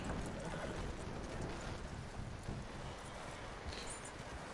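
A horse's hooves clop steadily while it is led on foot in Red Dead Redemption 2, the footfalls soft and continuous under a constant wash of wind-like background noise.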